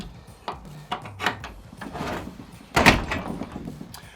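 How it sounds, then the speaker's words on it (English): A roller being set back into the track of a wooden garage door, giving several knocking, clattering wooden and metal bumps with a louder clunk near the end, close by and with no talk. "Now we can go ahead and place our roller back in."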